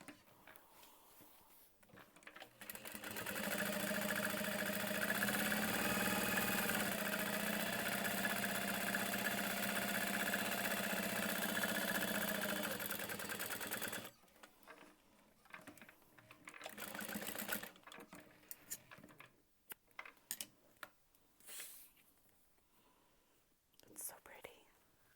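A sewing machine top stitches across the bottom of a strap in one steady, loud whirring run of about ten seconds, followed by quieter handling clicks and rustles.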